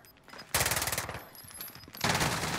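Rapid automatic gunfire in the Warzone video game, loud bursts that start sharply, carry on in a dense stuttering stream, dip briefly, then surge again near the end.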